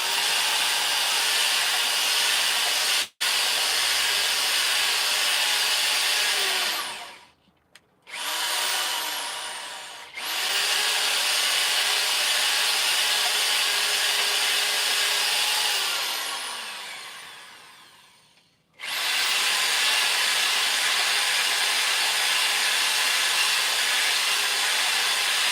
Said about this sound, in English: Grab our drill, see if we can hone that out a little bit better.